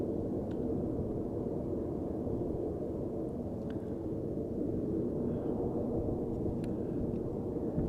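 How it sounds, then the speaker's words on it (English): A steady, low rumbling roar with no breaks from an airplane climbing north after takeoff from runway 24 at Amsterdam Schiphol Airport, heard far off, broad and muffled throughout. "an airplane that has just taken off from runway 24 flying to the north"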